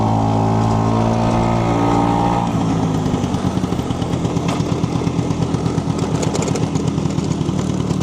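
A 1968 Vespa 150 Sprint scooter engine runs steadily while being ridden, first with a smooth droning hum, then a rougher, rapidly pulsing buzz as it picks up, loud and close throughout.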